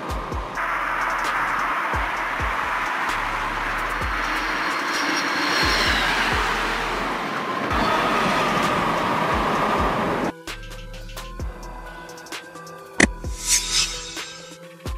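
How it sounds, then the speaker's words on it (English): A maglev train rushes past with a loud sustained roar for about ten seconds, then the sound breaks into scattered clanks and rattles. "Maglev, short for magnetic levitation, is a train technology that uses magnetic forces to suspend and propel the train above the tracks"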